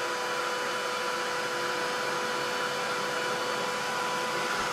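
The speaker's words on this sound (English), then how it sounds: "I'm just going to zap this with the heat tool" A handheld heat tool blows steadily over distress paint on a craft surface, giving a constant, even whooshing hiss that runs unbroken from start to finish with no talking.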